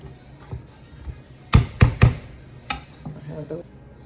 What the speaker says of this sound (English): Prepare our garlic to have it ready. We're going to mince that right into our beans.